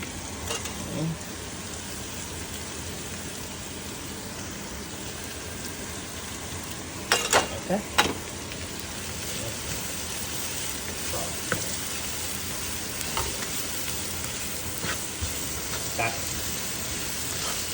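Shrimp frying in a hot pan while being stirred, a steady dense sizzle throughout with a brief cluster of louder scraping clatters near the middle and a few lighter knocks afterward.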